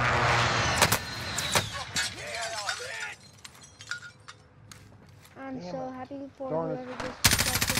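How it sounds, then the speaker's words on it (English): Gunfire in Call of Duty Warzone on Rebirth Island, loud bursts and shots at the start, then scattered, quieter cracks amid game noise, with people talking over parts of it. "He's shooting at buddy."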